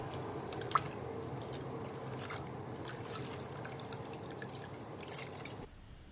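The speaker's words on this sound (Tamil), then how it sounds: "ஒரு குக்கரில் ஐம்பது கிராம் தோரம் பருப்பு எடுத்துக்கலாம் அதை நல்லா கழுவிட்டு வந்துடலாம்" Lentils being washed in water in a pressure cooker pot, soft continuous sloshing and dripping close by, quiet and steady with small splashes, no talking.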